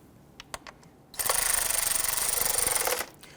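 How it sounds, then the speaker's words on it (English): After a few light clicks, a power tool buzzes steadily for about two seconds as it gently snugs a 10mm valve cover bolt on a 3.6L V6 Dodge Charger, then winds down. "start that 10mm bolt into the valve cover. Now I want to gently snug that down"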